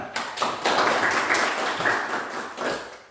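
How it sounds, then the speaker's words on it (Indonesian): Classroom applause after a student group presentation, a short burst of many hands clapping that swells quickly, holds steady for a couple of seconds, then tapers off. "Tepuk tangan."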